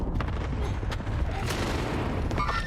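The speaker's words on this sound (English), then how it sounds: "Enemy cluster strike." Cluster strike explosions in Call of Duty Warzone arrive as a rapid, dense volley of booming blasts and cracks over a couple of seconds, fairly faint and distant-sounding.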